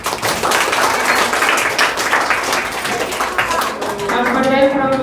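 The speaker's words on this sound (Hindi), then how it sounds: "पसंद आया तो था थोड़ा ताली से बजाना।" An audience at a school Republic Day celebration claps in a dense burst of applause for about four seconds. The clapping then fades as a voice begins talking over the sound system.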